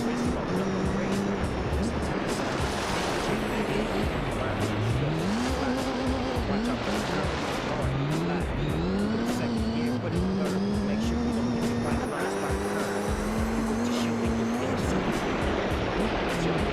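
Race car engines whine through rising and falling gear shifts in Gran Turismo 3 on PlayStation 2, with tire squeal and skidding on the turns, loud and continuous under a talking voice.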